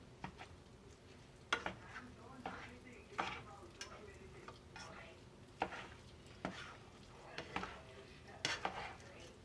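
A utensil stirring and breaking up green chili casserole in a pan: repeated close scraping taps and clacks in an uneven rhythm over a faint sizzle, fairly quiet.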